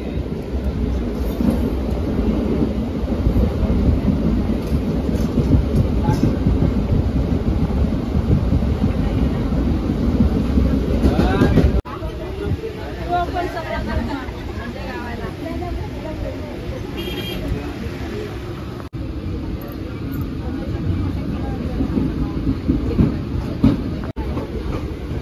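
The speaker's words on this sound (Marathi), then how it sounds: "बसलो इथे ट्रेनमध्ये" Passenger train running on its track, a steady loud rumble and rattle of the moving carriages heard from inside, continuous for the whole stretch with a drop in level midway; people talk over it.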